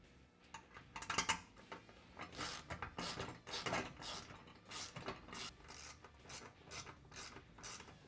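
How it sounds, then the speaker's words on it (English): A ratchet tightens the windshield bolts on a Can-Am Commander UTV during a Tusk upgrade kit install, making close, rapid bursts of metallic clicking in uneven runs. "once you have it centered up, you want to go ahead and tighten down both of the bolts."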